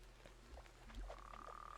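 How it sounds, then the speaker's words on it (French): Toads croak in the Fae Farm video game with short, repeated, faint croaks over a low steady hum and a thin sustained tone. "Les crapauds, c'est vraiment les pires à attraper, franchement."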